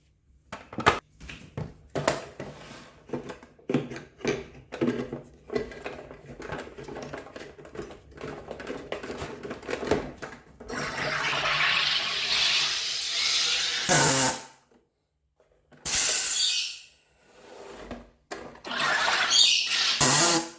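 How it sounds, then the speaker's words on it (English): A SodaStream machine carbonating water in two runs, with loud bursts of hissing, buzzing gas injection after some clicking and handling noises, separated by short pauses. "Now I like my soda water really fizzy, so I do about 2 runs."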